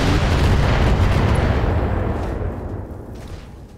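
A heavy barrage of weapons fire and explosions from the mech combat game BattleTech, loud and dense with constant rumbling blasts that gradually thin out and fade toward the end, with no talking.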